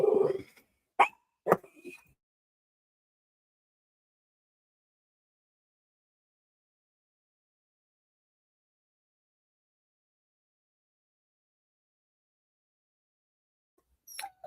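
Dogs bark several times in a short burst at the start, then fall silent for a long stretch before a brief faint sound returns at the end.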